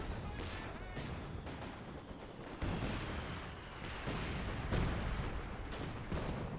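Dense, continuous battle noise from a Company of Heroes 2 4v4 match: rattling gunfire and mortar blasts overlap in quick irregular bursts, with a few heavier impacts standing out near the middle and end.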